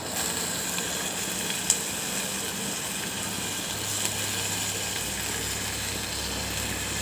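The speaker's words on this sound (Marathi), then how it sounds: "कांदा चांगल्या प्रकारे परतवून घेतल्यानंतर त्यात टोमॅटो टाकावा." Onion and tomato sauté in a pan with a soft, even sizzle that carries on throughout, broken by one or two faint clicks, with nobody speaking.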